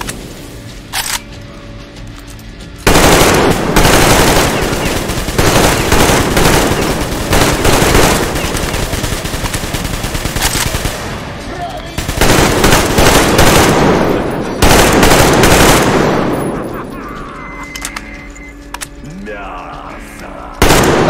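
Rapid bursts of gunfire from the video game Metro Exodus rattle loudly for most of the stretch, automatic volleys with brief pauses, dense and close, with no voices.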